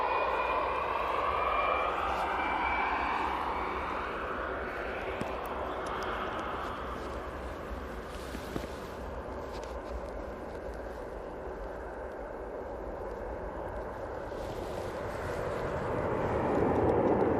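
Jet2 Boeing 757 at Manchester Airport doing a back taxi, its engines a steady distant roar that swells again near the end, with voices of onlookers talking faintly underneath.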